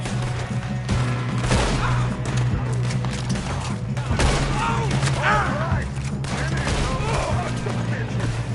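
Gunfire rings out repeatedly in Red Dead Redemption 2, bursts of shots and booming impacts over a shootout, loud and close, with voices shouting at times.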